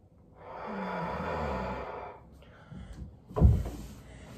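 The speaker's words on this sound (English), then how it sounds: "a couple of deep inhales and exhales in here" A slow, deep breath during a workout: a long audible inhale and exhale lasting a couple of seconds, followed by a soft thud and rustle, close and fairly quiet.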